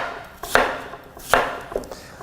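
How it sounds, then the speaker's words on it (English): A knife slices apple flesh away from the core on a cutting board for apple pie, making two crisp cuts followed by a lighter third tap, close and alone. "you're gonna slice the flesh away from the core."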